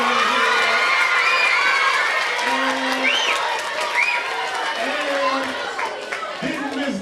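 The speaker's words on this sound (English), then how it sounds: "can we give one more round of applause for Mr. Spicer for being here?" A school audience at a poetry slam claps and cheers loudly, with children's shouts and whoops rising over the applause before it thins out near the end.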